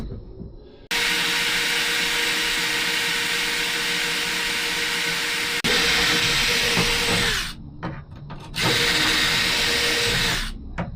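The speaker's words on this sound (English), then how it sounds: "I don't think this drill bit's gonna make" A power drill whines loudly and steadily, stopping briefly and restarting a few times, with no talking.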